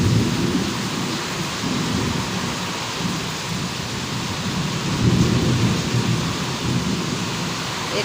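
Heavy rain pours down steadily with low rumbling thunder rolling underneath, swelling louder around the middle, a dense continuous storm close by with no voices.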